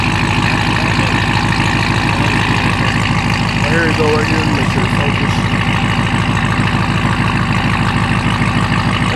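Deep, steady idle from a Ram TRX pickup with a straight-pipe exhaust, loud and close with a throbbing low rumble throughout, while someone talks over it.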